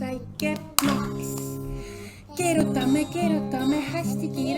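A single small hand clap stands out during a children's dance routine at a summer village party. The one short, crisp clap sounds under cheerful music and singing voices.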